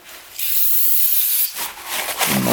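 Cleaner is sprayed onto a Kubota diesel engine head in a single sustained hissing burst of about a second, followed by softer wiping and rubbing sounds.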